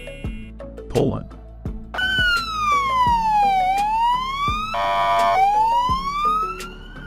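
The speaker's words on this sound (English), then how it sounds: "This is the police car of Poland." Police car siren from Poland, wailing in long rising and falling sweeps after a few short horn-like bursts, loud and close, with a brief burst of higher tones partway through.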